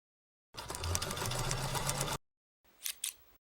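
A sewing machine stitches a strap loop on a mini backpack in one close, steady burst of rapid whirring lasting under two seconds, followed by silence and a couple of faint clicks.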